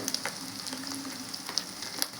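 Food sizzles softly and steadily in a pan while street-style egg noodles are cooked, with faint crackles and a few light clinks of utensils.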